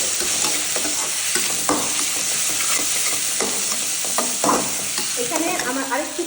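Ginger and garlic paste stir-fried in a pan for mung dal bhuna, with a steady sizzle and repeated scraping strokes of a spatula close by and no talking.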